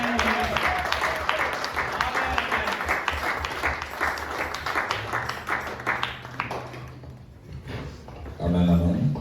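A church congregation at a Sunday service applauds in dense, sustained clapping that carries on for several seconds, thins briefly near the end, then swells again, with a few voices mixed in.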